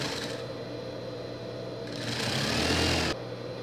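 A sewing machine whirs steadily up close while stitching a Minions pet costume, with a brief faster, louder run near the end and no talking.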